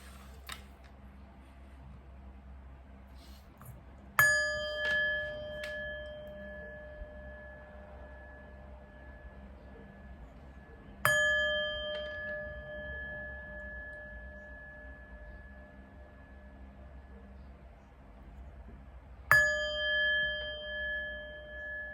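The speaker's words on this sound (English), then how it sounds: "let's chime" Three struck chimes ring out at even intervals, each a bright metallic tone that lingers and slowly fades over a low steady hum, with no talking.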